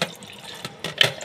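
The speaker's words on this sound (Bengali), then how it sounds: "এখন জল খুলে গেছে, সাপ্লাই জল" Water running from a household supply tap in a kitchen sink, a brief close hiss of flow with a few louder splashes, no talk.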